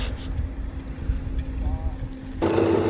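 Electric drill rigged up as a bicycle motor, running with a steady droning whine that surges louder near the end as it is pushed faster, with people talking over it.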